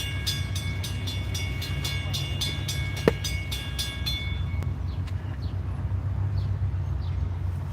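A CSX freight train rolls over a single-track bridge across Lake Wheeler in Decatur, Alabama, a steady low rumble with rhythmic wheel clatter and a sharp metallic bang midway, birds chirping faintly.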